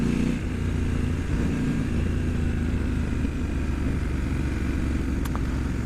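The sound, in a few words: Triumph Scrambler motorcycle engine braking while riding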